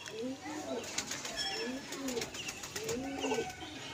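Pigeons kept for sale coo again and again in low, rolling calls close by, with soft wing flaps and rustling between the calls.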